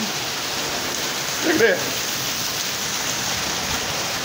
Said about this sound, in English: And it's raining like you know what, man.